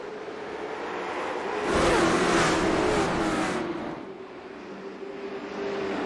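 Race cars take off at the start of a short-track stock car race, a broad roar of engines swelling and then easing, heard from a distance over a steady engine drone.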